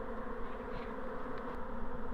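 A swarm of Apis mellifera honeybees settles onto tree leaves. Their steady, close buzzing drones throughout, ending with a sudden loud thump.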